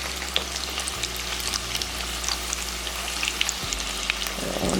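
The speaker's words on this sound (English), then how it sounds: "I'm gonna go ahead and place them in the grease. It's already hot and ready to go." Shrimp egg rolls frying in hot grease give a steady, dense crackling sizzle with scattered pops throughout, close and fairly loud, with no voices.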